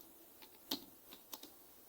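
A few quiet keystrokes on a computer keyboard while HTML code is typed, soft scattered clicks with gaps between them and no talk.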